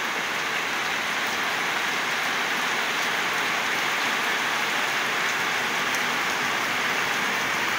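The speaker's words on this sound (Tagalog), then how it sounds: "Maulan na naman." Heavy rain pours steadily on a morning walk to school, a dense, unbroken hiss close by that fills the whole stretch with no voices over it.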